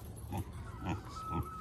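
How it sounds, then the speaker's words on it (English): A mini pig on a homestead with Boer goats, giving three short, regularly spaced low grunts against steady outdoor background noise. "Pig, pig, pig."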